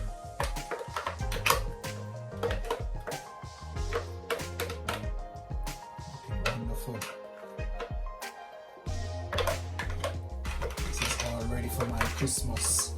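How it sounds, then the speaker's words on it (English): Sorrel puree is scraped from a blender into a container, with dense clattering, tapping and scraping of utensils against hard surfaces, close and steady for several seconds with no talk. "scrape this out into this container"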